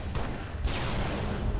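A rapid barrage of rockets firing in Halo Reach, a dense stream of loud overlapping launch bursts and thuds crowding together over a second and a half.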